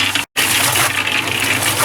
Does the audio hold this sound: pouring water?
yes